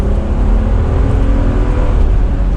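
A 2016 Mercedes-Benz G65 with a 600-plus horsepower engine pulls hard under acceleration in manual mode on a test drive, a steady, loud, deep engine roar with a rising drone running the whole time and no talk.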